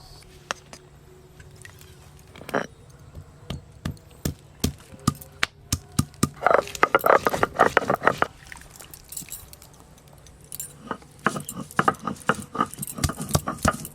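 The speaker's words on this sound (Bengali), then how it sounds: "একটু প্রথমে ভালো করে ছিঁচে নেব, তারপর বেটে নেব" Ginger and green chillies crushed on a grinding stone for mango kasundi, heard as a series of sharp knocking and scraping strikes, sparse at first, then a dense burst of pounding in the middle and more hits toward the end.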